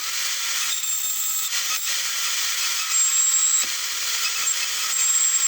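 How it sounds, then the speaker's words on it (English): A portable bandsaw cuts through metal pieces in a workshop, giving a loud, steady high-pitched whine and hiss that holds without a break, with no voices. "you could also get it close on the bandsaw"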